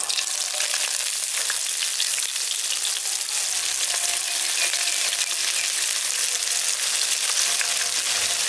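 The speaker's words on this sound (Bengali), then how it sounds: "এবার পেঁয়াজগুলোকে লালচে করে আগে ভেজে নিচ্ছি" Thinly sliced onions fry in hot oil, giving a constant bright crackle and sizzle that stays even and close throughout, with no voices.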